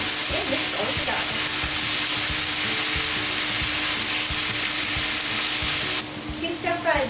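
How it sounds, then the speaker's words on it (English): Wheat gluten stir-frying in a pan with onion for vegan nikujaga, a steady loud sizzle throughout, broken by a few clacks of a utensil stirring, with a voice briefly heard near the end. "If you stir fry the wheat gluten, it adds more flavor, so I recommend"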